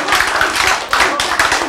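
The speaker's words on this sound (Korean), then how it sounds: "그 박수를 보내야지 그런 사람들한테" Audience applause with dense, continuous clapping from a crowd at a lecture, loud and close, with a short dip before it swells again.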